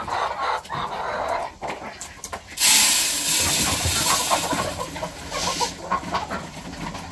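Many hungry chickens cluck and squawk together in a noisy flock, with a loud rushing hiss joining partway through and continuing underneath.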